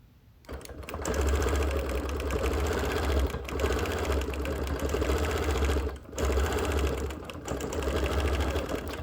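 A sewing machine stitches continuous curves across a quilt in long, steady runs of loud, rapid motor hum and needle chatter, broken by a few brief pauses.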